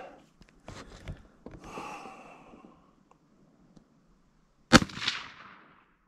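A single sharp, loud crack from a CZ 527 rifle in .22 Hornet fired at a 100-yard target, preceded by faint breathing and handling noises in an otherwise quiet outdoor setting, with a short decaying tail.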